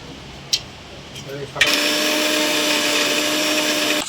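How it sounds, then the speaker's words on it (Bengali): An electric mixer grinder kicks on after a brief quiet stretch with a faint knock, grinding split peas (matar dal) with a loud, steady motor whine that holds to the end. "আমরা একটু মটর ডাল বেটে নিচ্ছি"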